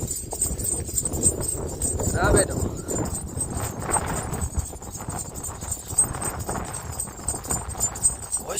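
A mare being ridden clip-clops along at a steady walking pace, close by with wind, while someone talks over the hoofbeats.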